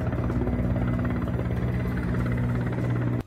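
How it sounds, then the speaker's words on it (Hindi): Helicopter rotor and engine drone steadily overhead during firefighting water drops on a burning building, a loud continuous throbbing hum that holds evenly and then cuts off abruptly near the end. "हेलीकॉप्टर की मदद से आग पर काबू पाने के लिए कई राउंड पानी की बौछार की गई"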